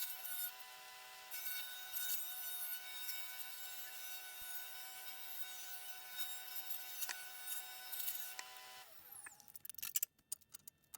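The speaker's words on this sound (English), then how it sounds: "I'm going to have to reset up and cut the width to the correct diameter" Power saw cutting a board of wood to width for a modern wooden shoe rack, a steady continuous whine lasting about nine seconds before winding down and stopping, followed by a few clattering handling knocks.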